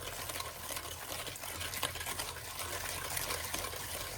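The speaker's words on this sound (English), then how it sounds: "So we will be whisking the sugar" Sugar being whisked vigorously by hand in a bowl for fudgy brownie batter, a steady, fast continuous scraping and swishing that runs without pause throughout at moderate level.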